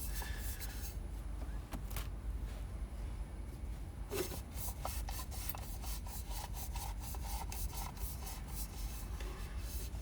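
A spilled drink wiped dry with a cloth, heard as repeated close rubbing and scrubbing strokes with a soft, steady hiss underneath.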